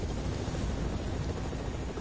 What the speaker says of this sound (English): Where's the other chopper?